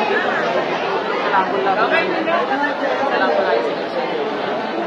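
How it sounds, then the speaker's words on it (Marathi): Dense crowd of devotees at a temple festival for the Hinglay Devi gondhal in Varsova, Mumbai: a constant, loud wash of overlapping chatter and murmuring voices, with no pauses, filling the whole stretch. "खूपच गर्दी आहे."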